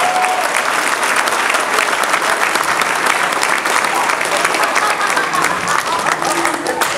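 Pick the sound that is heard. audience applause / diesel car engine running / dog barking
audience applause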